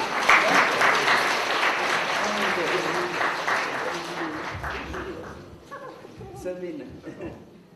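Sustained applause fills a Romanian award ceremony as a young honoree is presented with his prize, steady and dense at first, then thinning out toward the end as a voice begins speaking over the fading clapping.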